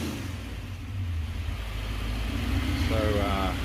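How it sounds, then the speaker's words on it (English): Supercharged V8 in a 1969 Gloria revving up, a steady low rumble that swells louder toward the end, heard close by without speech. "We can give it just a bit more of the old vroom vroom now."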